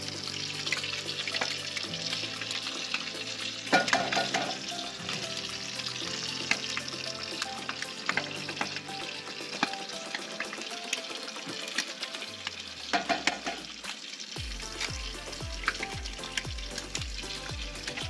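Scrambled eggs made with milk and Worcestershire sauce sizzle steadily in a pan at a creekside campsite, a continuous frying crackle with occasional stirring scrapes and a low engine-like hum entering near the end.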